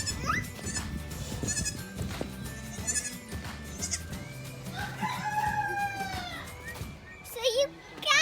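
A goat bleats on a farm amid a busy barnyard, with roosters crowing and other animals calling, while people talk nearby; the bleat rises clearly in the second half over the chatter.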